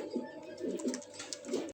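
Pigeons coo close by in four soft, throaty bursts spread across a quiet background.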